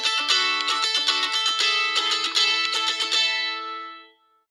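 A phone alarm tone named Strum, a bright plucked, strummed string melody with quick repeated chords and a low bass note underneath, playing alone for about three seconds before ringing out and fading.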